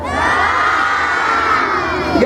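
A large crowd at a town Christmas tree lighting shouts together at full volume, a dense, sustained roar of many voices, children prominent, holding steady for over two seconds before breaking off.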